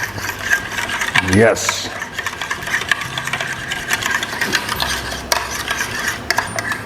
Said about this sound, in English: Keep stirring, mix it well.